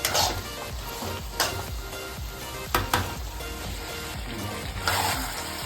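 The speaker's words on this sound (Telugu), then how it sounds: "మంచిగా ఫ్రై అవుతుంది చికెన్ కూడా ఇలా కలుపుతుంటే" Andhra-style chicken curry sizzles in oil in a pan while being stirred, with a steady frying hiss broken by a few sharp scraping stir strokes, close and moderately loud, no voices.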